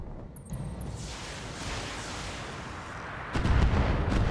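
Weapons fire at a Blackjack mech in a modded BattleTech battle: a sharp early burst, then a sustained rumbling roar, and then a heavy, booming artillery-like blast near the end. No voices are heard.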